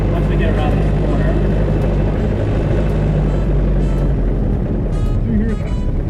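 Ford Model T engine rattling as the antique car drives along, a steady loud mechanical clatter and drone that continues throughout, with some wind noise mixed in.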